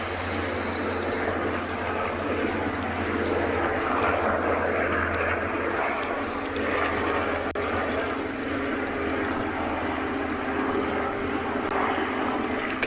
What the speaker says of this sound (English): Might hear a helicopter flying over.